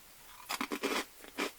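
Close, quiet crunching bites into homemade oven-baked croutons, several quick crisp crunches in a row followed by one last crunch, with no talk.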